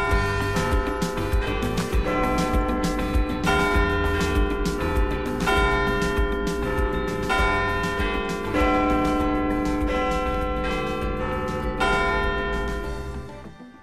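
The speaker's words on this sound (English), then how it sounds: "That was actually Big Ben chimes in London, England." Big Ben in London, England rings out in loud, continuous chimes, its bell tones overlapping and ringing on with a dense, sustained resonance until a fade near the end, with no speech.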